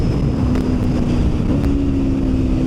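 An Aprilia RSV4 1100 Factory motorcycle accelerating in first gear, a loud close engine drone with a steady pitch that steps up slightly midway, over heavy wind rush.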